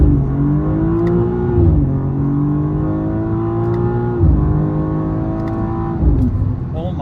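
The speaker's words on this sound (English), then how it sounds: "when you shift at 7 grand, it bangs through the gears" A BMW M2 G87 under hard acceleration, loud rising engine notes cut by three quick gear shifts with a sharp bang at each change, heard from inside the car.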